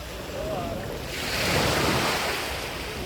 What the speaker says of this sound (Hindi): कई बार आती है लहर, कई बार नहीं आती, कई बार जोर से आती है